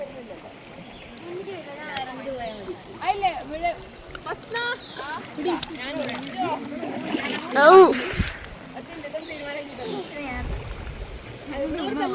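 Stream water in Idukki splashes and trickles as people wash at a nature camp, with irregular close splashes, one louder burst, and voices chatting throughout.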